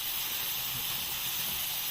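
Steady high hiss of food frying until golden brown in a pan, close and constant with no other sounds.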